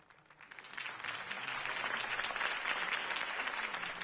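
Crowd applause in the video game Batman The Telltale Series, a dense clapping wash that rises after a quiet start and holds steady, moderately distant, with no talking over it.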